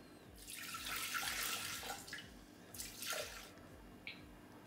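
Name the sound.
water being poured into a Thermomix bowl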